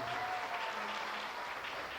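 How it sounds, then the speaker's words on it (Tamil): A hall full of people applauds the Sakthi folk art troupe at a Tamil folk art evening, with dense, steady clapping that is fairly loud and unbroken. "சக்தி கலைக்குழு ஒவ்வொருவருக்கும் அரங்கம் நிறைந்த கைத்தட்டலை மீண்டும் உரித்தாக்கிக் கொள்வோம்"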